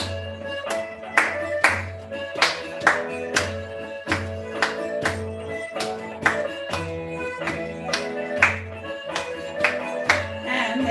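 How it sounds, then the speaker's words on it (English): Sharp claps paired with steps land on the strong beats of a music lesson at a steady pulse, one roughly every second, over a melodic accompaniment. "then clap and step at the same time on the strong beats"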